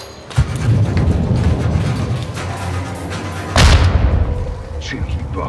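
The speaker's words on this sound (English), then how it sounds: "Grenade!" A grenade detonates in a modern military shooter game during an assault on an offshore oil rig. A heavy, booming blast bursts out over a steady roar of combat noise, followed by a lingering rumble, with a voice calling out beneath the din.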